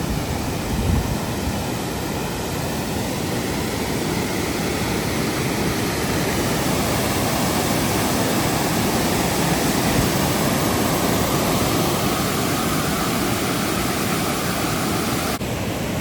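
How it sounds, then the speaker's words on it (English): Several waterfalls at Ducheny Falls pour in a loud, steady broadband roar that fills the whole stretch without a break, close and unbroken, with no talk over it. "There's a lot of waterfalls here."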